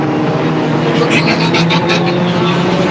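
Pure Stock race cars roar around the third-mile oval at Flamboro Speedway, a dense, continuous engine drone with several cars passing close together. A commentator talks over the racing.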